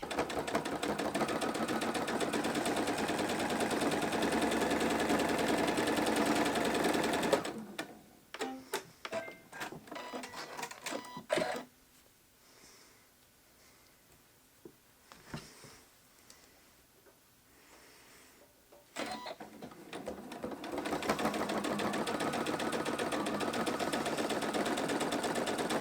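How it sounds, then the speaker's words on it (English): A sewing machine stitches the seam of a quilted fabric bowl cozy, with a back stitch at the base of the V. A steady loud whir runs for several seconds, stops for a stretch of quiet handling noises, then resumes and runs to the end. "you're going to stitch down here, remembering to back stitch at the very base of the V"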